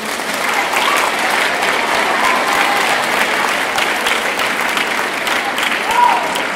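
Steady applause from an audience at a school awards ceremony honoring selected students, sustained and fairly loud throughout with dense overlapping claps and a brief crowd swell near the end.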